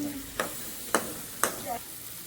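Capsicum frying in a pan as a home cook stirs it, with three sharp scraping strokes of the spoon spaced about half a second apart over a low, steady background.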